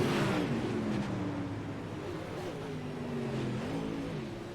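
UMP modified race cars roar around the dirt track at Knoxville, several engines revving and sliding together in a loud, continuous mid-pack battle with no break in the noise.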